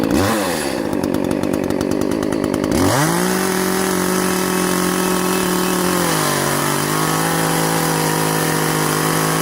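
A chainsaw fitted with an Oregon PowerSharp sharpener runs loud and close, rattling briefly before revving up into a sustained high, steady engine whine that eases down a notch partway through.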